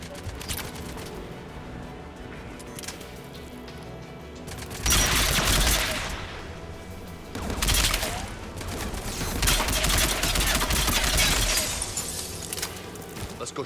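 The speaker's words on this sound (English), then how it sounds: "AA guns ahead." Anti-aircraft guns firing in the video game Mass Effect Legendary Edition: loud sustained volleys of heavy gunfire arrive in two long barrages, rumbling and crackling under the game's background sound.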